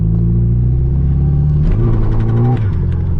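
Nissan Sileighty engine revving hard while driving in second gear, a loud, steady close-up drone that climbs in pitch partway through, then dips as the revs drop near the end.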